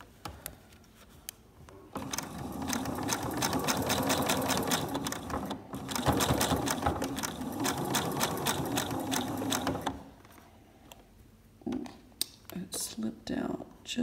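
Sewing machine stitching curved quilt pieces, a fast steady mechanical whir running for several seconds, pausing, then resuming in shorter bursts, with soft speech alongside.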